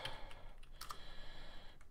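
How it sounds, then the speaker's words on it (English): A few quiet computer keyboard keystrokes, including a press of the period key, click faintly as isolated taps over a low background hum. "you hit period on the keyboard"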